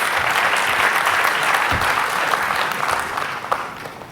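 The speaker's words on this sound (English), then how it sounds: "let's give him a round of applause" Audience applause at an awards ceremony, a dense, steady wash of clapping from a large crowd lasting several seconds before gradually thinning out.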